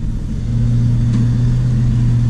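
A vehicle drives slowly across an RV lot with a steady, close engine rumble and a low hum running evenly throughout, with no talking.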